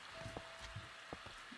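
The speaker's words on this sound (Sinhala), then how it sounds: "මේක වහිනවා" Rain falls in Minecraft as a faint, even patter of drops with a soft hiss, quiet and continuous, while a few brief muffled knocks show through.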